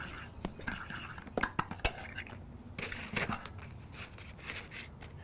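Chili powder seasoning being stirred together in a bowl, irregular metallic scrapes and clinks of a utensil against the dish, close and uneven.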